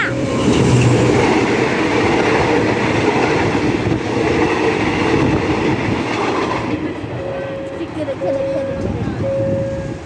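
Thai train no. 259 from Thonburi to Nam Tok rolls into a station, a loud continuous rumble with clattering wheels and a thin squealing tone toward the end, while someone talks over it.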